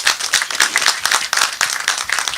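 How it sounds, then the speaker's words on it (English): An audience claps after a talk at a chimpanzee census launch, with quick dense clapping in uneven bursts, close and fairly loud, no voices over it. "let's give them a huge round of applause"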